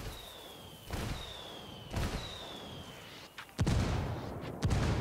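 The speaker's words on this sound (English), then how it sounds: "I'm calling for indirect fire." Indirect fire artillery strikes in Ghost Recon Wildlands land as a series of booming blasts, four or five heavy impacts spaced about a second apart, with the last ones loudest and closest.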